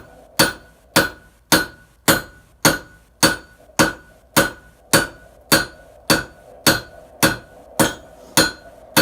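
A hammer strikes metal on an anvil in a steady, evenly spaced series of about sixteen loud ringing blows, each clang decaying briefly before the next, close up with no talking.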